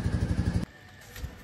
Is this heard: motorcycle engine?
yes